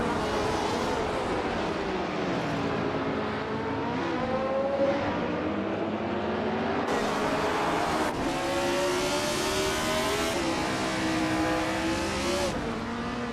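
Race cars in a video game roar along the track, with layered engine whines rising and falling steadily and loudly throughout, and no voices.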